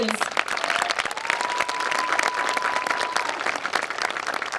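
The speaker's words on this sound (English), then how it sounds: "How about another round of applause for our students?" A high school graduation crowd applauds the students in a steady, full round of clapping, with a sustained tone and some voices mixed in underneath.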